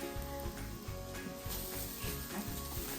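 Strips of bacon frying in a pan give off a steady, faint crackling sizzle, with quiet clinks and thumps of cooking underneath.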